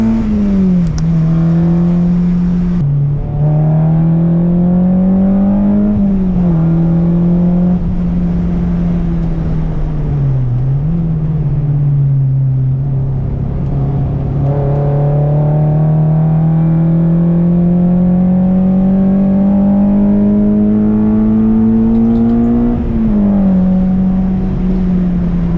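A Honda-powered Volkswagen GTI race car runs a warm-up lap on a circuit, its engine droning loudly and continuously from inside the cabin, pitch rising and dipping through gear changes and corners.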